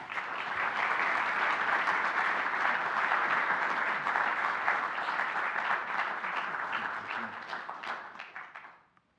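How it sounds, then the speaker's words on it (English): Audience applause for speakers coming on stage at an evening program on U.S. policy in Africa in Minnesota: dense, sustained clapping from a full room, steady for most of the stretch before thinning and fading out at the end. "Let's give them a round of applause."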